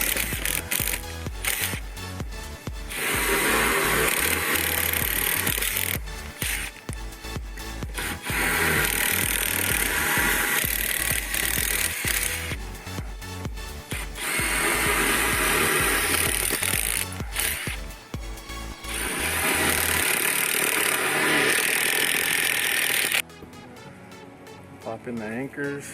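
A power drill with a 5/16 masonry bit bores into a wall to mount a DirecTV satellite dish, loud grinding bursts starting and stopping in several long runs, close by, with speech mixed in.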